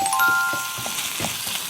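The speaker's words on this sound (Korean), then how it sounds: "소고기 다짐 육을 이렇게 넣어가지고요. 네. 자, 볶아주시면 됩니다" Minced beef stir-frying in a pan for a curry rice dish, giving a steady soft sizzle with scattered crackles, close and moderately loud with no talk.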